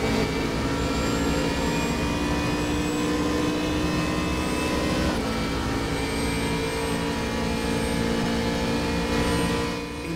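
A racing car engine in the RaceRoom racing game drones loud and steady with a high whining tone that climbs as it accelerates, continuous for the whole stretch with no talking.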